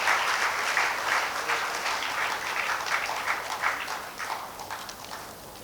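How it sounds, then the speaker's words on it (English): Applause from the audience at the Aloysian Youth Icon alumni awards ceremony, a steady, moderate wash of clapping that grows choppier and fades slightly toward the end. "request a big applause from each and every one over here"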